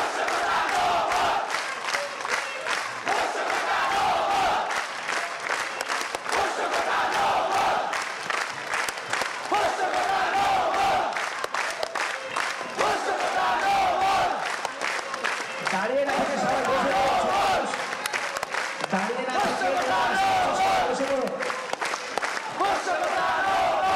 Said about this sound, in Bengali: আমরা আরেকটু স্লোগান শুনতে চাই।